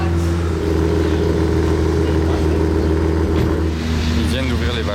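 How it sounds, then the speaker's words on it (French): Car with a central exhaust and opened valves at the Monaco Grand Prix, giving a loud, steady engine drone with revving close by, over crowd noise and chatter throughout. "L'échappement central, ça fait un super bruit en plus."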